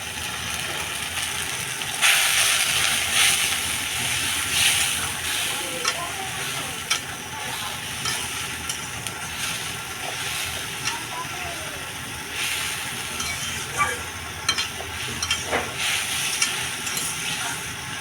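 A spiced mixture seasoned with ground coriander and salt sizzles as it is sautéed in a pan, a steady broad hiss that runs throughout, broken by occasional scraping stirs and clinks.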